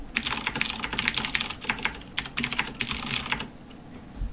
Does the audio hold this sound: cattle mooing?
no